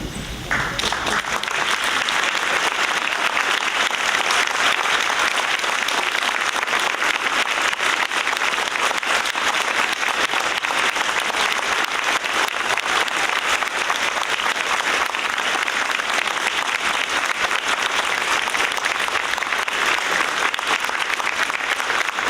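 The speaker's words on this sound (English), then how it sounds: "everyone here can thank you with a round of applause" Sustained audience applause at a school Veterans Day celebration, steady and dense from start to finish, filling the room for over twenty seconds with no talk over it.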